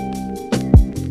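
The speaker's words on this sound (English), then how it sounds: "So if you want your drums to stop sounding like this" Dry, unprocessed boom bap drum beat playing alone, with a kick and snare hit over a steady sampled loop, the hits sounding somewhat dull and flat.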